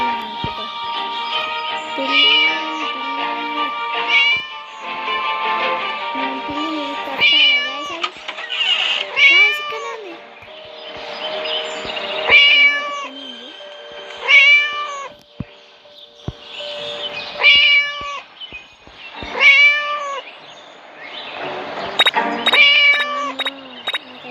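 A cat meows over and over, loud and close, in long wavering cries and shorter calls spaced a few seconds apart.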